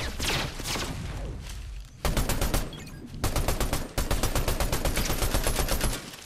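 Gunshots in Fortnite Zero Build, loud rapid bursts of automatic fire in quick rhythmic volleys, with a brief lull between strings of shots and a thumping impact.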